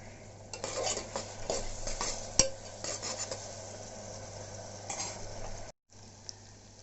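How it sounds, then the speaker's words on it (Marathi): Onion, tomato and curry leaves fry in a pan for kheema under a continuous close sizzle, with frequent scraping and clinking from a utensil stirring against the pan and a brief break near the end. "कांदा, टमाटर, कढीपत्ता हे भाजायला टाकलेलं आहे"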